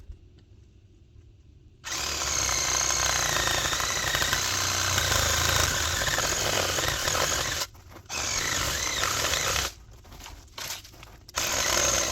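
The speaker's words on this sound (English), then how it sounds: "I'm just gonna use my old beater sawzall." An old, worn Sawzall reciprocating saw cuts through a tree, a loud continuous buzzing roar that starts after a quiet moment and breaks off three times in short stops and restarts, with no voices.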